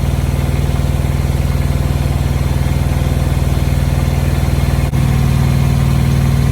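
Steady droning engine and compressor hum of a Tripac Evolution truck AC unit, with a sudden click and a shift in tone near the end as the compressor clutch engages, running loud and continuous.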